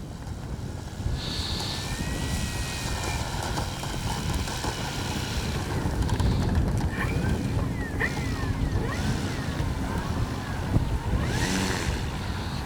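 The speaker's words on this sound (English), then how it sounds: "It's windy. Flaps up. It is windy." Constant wind buffeting and rushing fills the air, with a Hangar 9 Valiant 20cc RC airplane's engine whining and shifting pitch in the distance.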